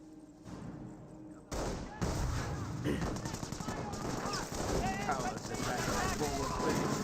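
Gunfire strikes a squad of German Grenadiers in a Company of Heroes battle, with bursts of machine-gun and rifle shots rattling continuously over the background noise of the fight.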